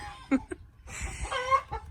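Several hens squabble over laying spots in a garage, giving short clucks and agitated squawks at close range in a brief burst.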